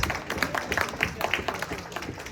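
An audience claps at a gala party for a rabbi's 40th anniversary at Temple Shalom Emeth, a short burst of dense, even applause from a room full of people.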